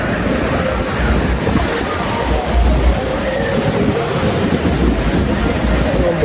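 Water flowing below a path on the way to Panchghagh waterfall in Khunti, Jharkhand, heard as a steady, broad rushing wash that fills the whole clip at an even level, with wind buffeting the microphone and no clear talk.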